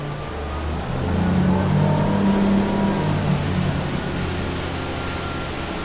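A 2020 Regal 35 Sport Coupe's twin Volvo 300 engines rumble and rise steadily as it accelerates, a loud continuous drone with a low throb, no voices.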